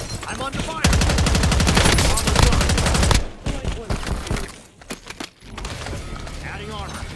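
Rapid automatic gunfire in a military video game, a dense loud burst of shots lasting a few seconds, then scattered quieter game effects and sporadic sounds.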